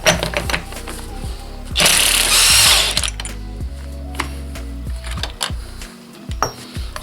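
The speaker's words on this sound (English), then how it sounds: "I'm going to cheat and do it quicker with the use of a rattle gun." An air impact gun (rattle gun) spinning off a 50mm clutch nut on a Suzuki GSXR motorcycle, loud close bursts of rapid mechanical hammering with a harsh rattling whirr, starting and stopping several times.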